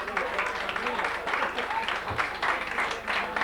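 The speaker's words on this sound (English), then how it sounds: "Come on, give Johnny a round of applause for that" Applause from a local audience rolls steadily at moderate volume, thin and close on a radio-style show, with a voice talking faintly under it.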